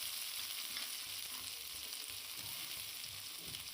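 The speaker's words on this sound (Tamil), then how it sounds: "வெங்காயத்தை கோல்டன் ப்ரௌன் கலர் வர வரைக்கும் நல்லா வதக்கிக்கலாம்" Small shallots sauté in a pan for a sardine fish curry, making a faint, continuous crackling sizzle broken by occasional stirring scrapes.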